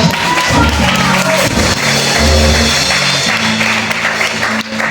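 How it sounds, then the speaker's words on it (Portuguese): A church congregation breaks into loud, close applause during a sermon, dense clapping mixed with thumps and voices, with a low musical drone and talking carrying through underneath. "uma salva de palmas"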